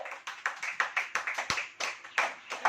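Congregation at a Hindi-language Christian church service clapping in a steady rhythm, a run of sharp hand claps repeated at a quick, even beat, fairly close and moderately loud.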